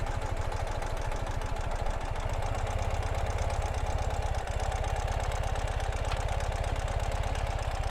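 A 2018 Ural Gear Up sidecar motorcycle engine idles steadily in neutral, a close, even low chug with a regular beat that holds throughout.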